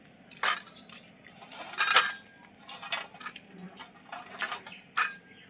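Pieces of aloe vera are shifted onto another plate, giving light clinks and taps of metal on a dish in short separate bursts, quiet and close.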